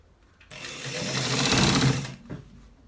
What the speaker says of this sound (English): So guys, we are stitching it. We are stitching it to the very end.